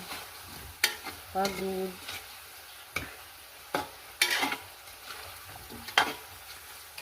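Food being stirred in a pan while cooking kinason, with repeated spoon scrapes and knocks at an uneven pace over a soft sizzle, and brief speech in between.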